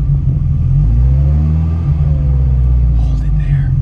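A vintage Ferrari engine idles with a deep, steady low rumble close by while people talk over it during a manual-transmission driving lesson.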